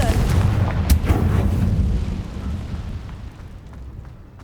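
Confringo fire spell exploding in the Hogwarts Legacy video game: a heavy low boom with a sharp crack near the start, then a rumbling tail that slowly fades over several seconds.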